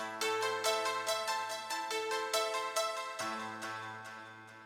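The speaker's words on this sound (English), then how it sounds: "again this tack piano from Halion," Halion tack piano playing a steady arpeggiated pattern in a contemporary hip hop sports cue, bright plinky repeated notes over sustained low tones, fairly quiet and evenly paced.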